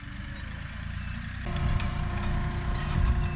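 A John Deere 2032R compact tractor engine runs at idle close by, a steady low rumble with harmonic hum that gets slightly louder and rougher partway through, heard alone with no talk.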